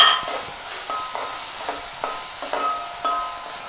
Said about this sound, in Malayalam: നമുക്ക് ഇഞ്ചി, പച്ചമുളക്, കുരുമുളക്, ഗരം മസാല, ഇത് 3 കൂടെ നമുക്ക് ഒന്ന് വഴറ്റിയെടുക്കാം.